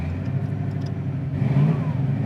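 A 1981 Camaro Z28 with a V8 engine runs close by, a deep steady idle rumble that rises into a short rev partway through, with no talk over it.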